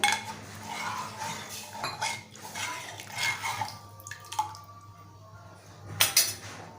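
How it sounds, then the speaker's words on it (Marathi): Half a glass of water poured into a pot of horse gram flour for a Malvani kulith pithi curry, splashing with a few metal clinks of the pot and utensils, close by with no talk. "आपण याच्यामध्ये अर्धा ग्लास पाणी घालतो आहे"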